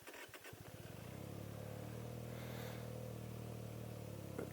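A fuel-injected Benelli 302S motorcycle cranks briefly, then catches and settles into a steady, even idle, its low engine rumble close and continuous with no talking.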